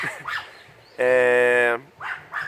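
A small dog gives one sustained, bright whining bark, close and loud, between stretches of a person talking.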